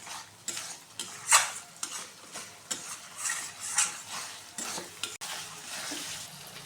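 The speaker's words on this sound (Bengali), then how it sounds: "মশলাটা কষানো হয়ে গেছে" Spice paste being stirred and sautéed in a pan for shahi matar paneer: soft sizzling under repeated scraping strokes of a spoon against the pan, with a few sharper metallic clinks, close and moderately quiet.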